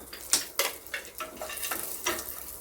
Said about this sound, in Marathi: पॅनमध्ये मी 1 चमचा तूप गरम करण्यासाठी ठेवले। त्याच्यामध्ये ड्रायफ्रूट छान भाजून घेऊया, म्हणजे फ्राय करून घेऊया।